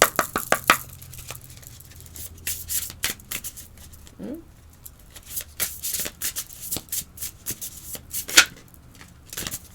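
A tarot card deck is shuffled by hand in repeated crisp bursts of riffling and snapping cards, close and clear, with short pauses between bursts.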